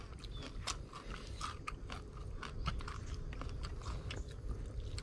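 Crispy, dry fried fish being chewed up close, a run of sharp crunching bites over a low background hum, steady and fairly quiet with no talking.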